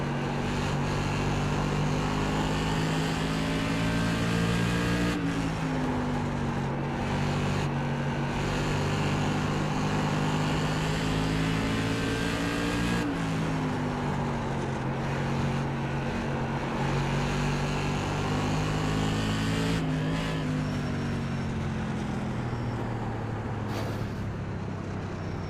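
A race car engine in a racing video game drones steadily throughout, its pitch rising and falling as the car works through corners, with no pauses.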